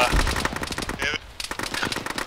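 Gunfire in a military video game set around a jungle runway, dense rapid automatic bursts crackling close and loud, with a brief pause in the middle and voices in the background.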